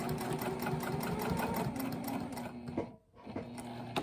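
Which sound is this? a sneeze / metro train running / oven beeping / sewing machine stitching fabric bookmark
sewing machine stitching fabric bookmark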